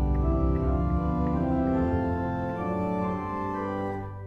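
An octave 4-foot stop on a church hybrid organ that mixes real pipes and digital voices plays sustained chords with bright upper harmonics, steady and full for a few seconds without any talking.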